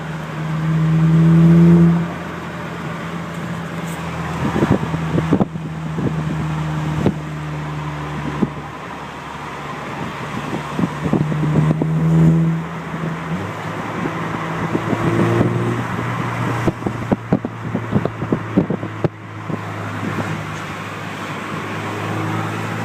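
Volkswagen GTI with a custom muffler-delete exhaust heard from inside while driving with the windows down, a deep droning rumble that swells on acceleration, with road and wind noise around it and no talk.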